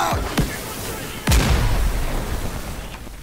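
Grenade blasts and gunfire in the World War II shooter Day of Infamy during a close-quarters castle siege: two or three loud booms with rumbling tails, the biggest one in the middle, over a constant din of battle.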